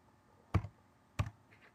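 Two crisp keystrokes on a computer keyboard, evenly spaced about two-thirds of a second apart, close and clear against a quiet background.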